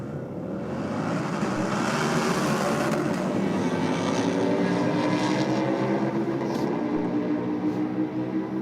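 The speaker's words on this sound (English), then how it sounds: "Sounds like I got one of the Darkside Custom Harleys going down." A Harley-Davidson motorcycle roars past accelerating down a drag strip in a sustained, heavy drone that swells and holds, with no voices.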